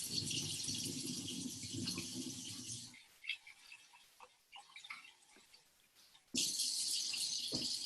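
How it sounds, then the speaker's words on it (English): Rice is washed and rinsed in water under a running tap, a loud hiss of flow broken by a quieter stretch of swishing and sloshing grains before the tap rushes back on, with no talking. "we're gonna wash it just in water and rinse it a couple times"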